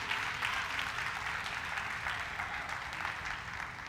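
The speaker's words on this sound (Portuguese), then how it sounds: "Você pode dar um aplauso a Ele se você é livre" A church congregation applauds during a Pentecostal sermon, a steady, diffuse wash of clapping heard from a distance that holds even and fairly quiet across the whole stretch.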